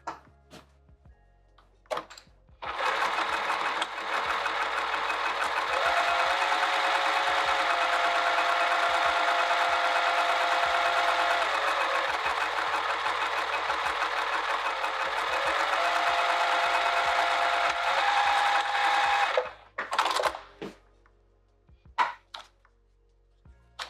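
A sewing machine stitches around the edge of a travel clutch in one long, steady, close whir, with faint pitch shifts, framed by brief clicks before and after.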